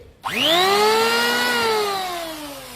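A 3-inch two-blade electric hand planer spins up with a rising whine that settles into a steady, loud harmonic drone, then slowly winds down near the end; close by with no talk.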